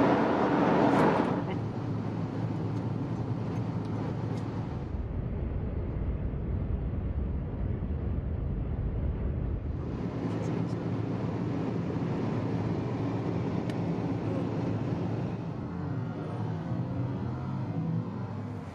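A car on a long road drive, a steady broadband road and wind rumble running throughout, briefly dropping in level in the middle before returning.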